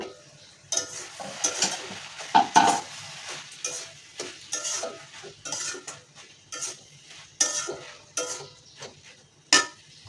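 Mixed leafy greens being stirred in a pan with a utensil, intermittent scraping and clinking strokes over a soft cooking sizzle, no water added, close by with no talking.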